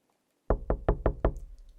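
Five sharp knocks on a door come in an even, quick rhythm after a moment of silence. They are close and loud, with no talking.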